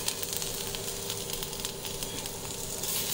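Cumin, mustard seeds, asafoetida and white sesame crackle and sizzle in hot oil as a tempering for a bitter gourd dish, a quiet, steady spitting hiss with tiny pops throughout.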